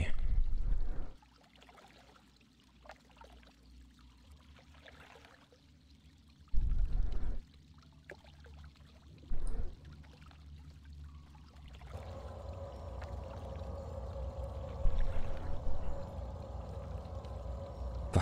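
Water splashing in World of Warcraft, in the Underbog dungeon of Burning Crusade Classic, with a steady watery pour and brief louder splashes, then a fuller rushing wash near the end.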